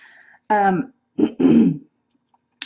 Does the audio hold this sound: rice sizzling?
no